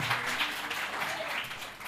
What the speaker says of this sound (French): Merci encore de les applaudir